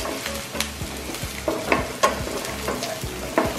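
Onion sizzles in hot oil in a pan after the garlic has browned, with a steady crackling fry broken by several sharp scrapes and clicks of stirring, close and loud.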